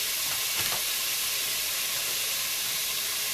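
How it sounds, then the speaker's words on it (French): Lardons (bacon bits) fry in a Cookeo multicooker with a constant, fairly quiet hiss and sizzle, a couple of faint stirring knocks near the start. "Je mets les lardons à dorer"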